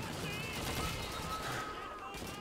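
Rapid gunfire and grenade blasts from the World War II shooter Call of Duty 2 on Veteran difficulty, a dense, steady barrage of shots filling the whole stretch with a voice faintly underneath.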